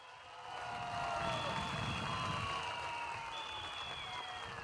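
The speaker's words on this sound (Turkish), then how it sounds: "Bir yürekten alkışlayalım onları." A large crowd at a political rally applauds warmly, a sustained wash of clapping with some cheering, steady and fairly distant throughout, with no talk.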